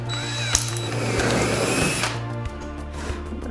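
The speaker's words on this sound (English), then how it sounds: "Now I'm just going to change to a bigger drill that matches this hole." A power drill runs with a bigger bit boring through wood, a steady whirring mechanical drone that holds for about two seconds, then cuts out and leaves a quieter hum with a few small clicks.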